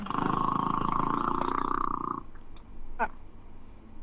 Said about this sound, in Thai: มีเสียงมอไซค์ด้วยเนี่ย